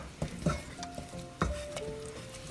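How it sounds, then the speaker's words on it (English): Dal fry being stirred after lemon juice and garam masala go in, a soft sizzle under scattered spoon scrapes and light clinks against the pot, close and fairly quiet. "You will give this a mix"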